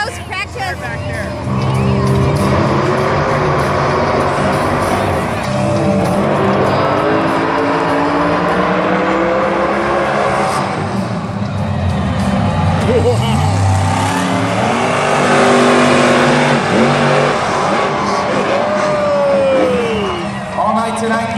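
Monster trucks racing at the Monster Jam World Finals XVII in Las Vegas in 2016, with loud, continuous engine roar rising and falling as they rev and accelerate, alongside crowd noise and a voice talking over the arena.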